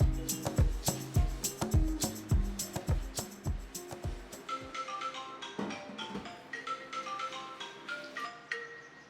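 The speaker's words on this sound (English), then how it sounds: "That's a phone call I got from my cousin asking if we were at home" A phone ringing with an incoming call from a cousin in a home kitchen, as a repeating melodic ringtone of bright tonal pulses that loops several times, fairly clear and alone.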